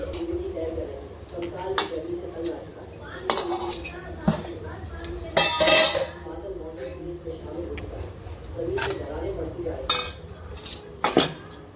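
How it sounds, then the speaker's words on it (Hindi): Metal items clink and clatter as they are set onto a silver plate during household ritual preparations, with repeated sharp chinks near the microphone while someone talks over them. "यहाँ पे देखिए चांदी का ये प्लेट है, उसमें ही रखा जाता है, तो हम उसमें रख रहे हैं।"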